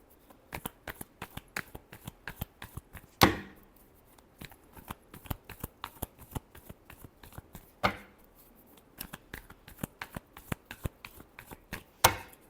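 Tarot cards are shuffled by hand in a quiet room, a steady run of soft crisp riffles and taps with a few louder snaps where the deck is squared, with no voices.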